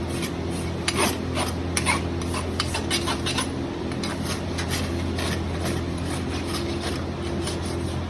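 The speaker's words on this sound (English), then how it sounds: "Now again, all that rasping around the outside, they don't feel any of that." Farrier rasping around the outside of a horse's hoof during corrective trimming and shoeing, a steady scraping rub with repeated strokes over a constant low hum, close and moderately loud, no voices.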